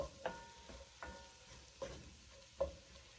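Four cloves of garlic are tossed in a pot for beef stew, giving a quiet sizzle with four distinct scraping clinks of a utensil spaced about a second apart.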